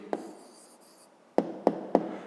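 A few short pen taps and scratches as an answer is written by hand on paper, soft and close, with a quiet pause before three crisp strokes.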